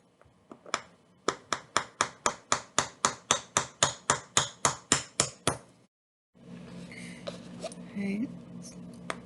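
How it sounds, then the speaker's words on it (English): A nail tapped with a hammer to punch a hole in the center of a windchime piece: about eighteen sharp, evenly spaced knocks, close and crisp, then a short pause followed by quiet handling noise and a faint voice. "I'm going to try a delicate hammer and nail right in the center."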